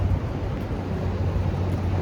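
Strong outdoor wind rushes steadily across the microphone as a constant low buffeting rumble, with no voices present.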